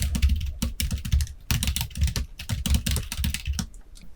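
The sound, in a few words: typing a chart title on a computer keyboard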